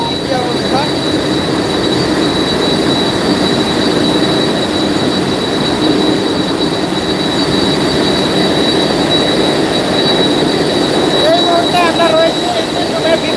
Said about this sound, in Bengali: তো চলুন ইঞ্জিন রুমে যেয়ে দেখি ইঞ্জিন